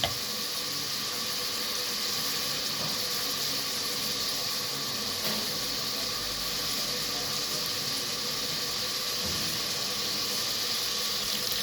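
Tomatoes frying in a pan, giving off a steady, loud, even sizzle and hiss that runs without a break and has no talking over it.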